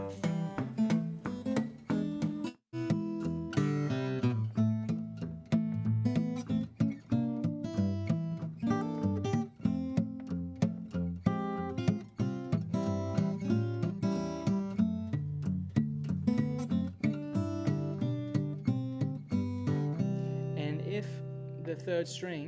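Acoustic guitar played fingerstyle performs a piece, with a steady picked bass line under plucked melody notes and chords, clear and close for over twenty seconds with no talk.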